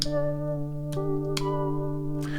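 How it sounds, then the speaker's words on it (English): A sustained, shimmering ambient guitar tone through a Shallow Water pedal holds steady, with a few soft plucked notes over it, no talking. "So this is the sound of the shallow water"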